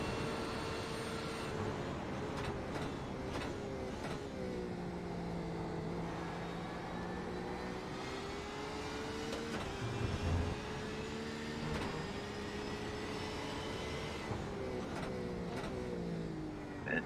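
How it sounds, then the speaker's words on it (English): A race car engine at Daytona during a World Challenge round drones steadily, its pitch sliding up and down through gear changes, with brief clicks and distant track noise around it. "Just listening in to that engine"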